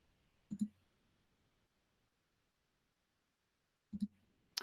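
Mouse clicks on a computer, two quick pairs of crisp, close clicks separated by a few seconds of near silence.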